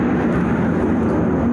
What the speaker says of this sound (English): this plane above me is so loud